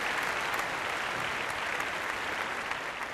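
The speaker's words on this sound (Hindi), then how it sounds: "तालियां एवरीबॉडी" Studio audience on a Family Fortunes game show clapping steadily through the whole stretch, a dense, even wash of hands with no voices standing out.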